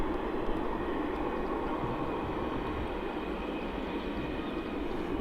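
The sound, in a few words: aircraft APU (auxiliary power unit) running at airport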